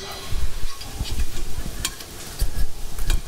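Ratatouille is stirred and tossed in a sizzling pan, with scraping utensil strokes over a continuous close frying hiss.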